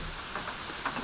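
Steady rain falls outside a hostel, a soft continuous hiss with a few louder drops or taps near the end, brief and close.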